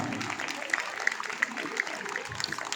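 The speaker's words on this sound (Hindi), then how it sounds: "लेकिन आपके मुस्कान के लिए बहुत जोरदार ताली" An audience claps together at a school poetry event at Narayana School, Fulbari, Siliguri, a steady patter of hands over a murmuring hall with a few sharper claps standing out.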